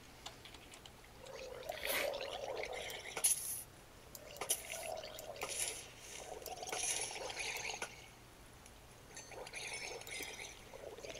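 Flowing water in Minecraft trickles and splashes in quiet, uneven bursts, with pouring and dripping textures rising and falling over a faint background.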